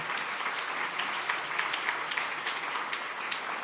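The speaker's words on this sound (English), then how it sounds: "just everyone that's in this room should really give them a big round of applause" A room of gala guests gives a round of applause at an anniversary benefit, dense even clapping heard moderately far off and steady for the whole stretch.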